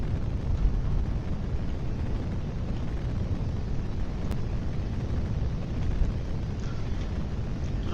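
A rocket engine burns during launch in a video game, producing a steady, deep, continuous roar that holds at an even loudness throughout with no other sounds on top.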